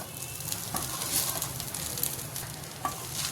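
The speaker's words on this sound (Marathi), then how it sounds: "आता मी याच्यात कोळंबी घालून घेते" Prawns added to a pan for prawn rice, a steady, moderately loud sizzle with stirring scrapes and a few soft clicks on top.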